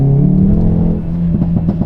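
A 2023 Hyundai i30 N with DCT gearbox and stock exhaust revs loudly nearby, a deep engine drone that dips, then pulses with quick burbling blips.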